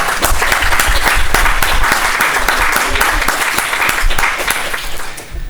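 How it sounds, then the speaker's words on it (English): Audience applause for an expert group at the launch of the EOSC Observatory, a dense, steady wash of clapping that stays loud for about five seconds and eases slightly at the end. "I want to give them a big round of applause"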